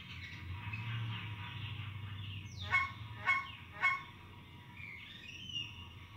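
Three loud goose-like honks ring out in quick succession over a low ambient hum in the Wii Fishing Resort game's jungle setting, followed by fainter bird calls.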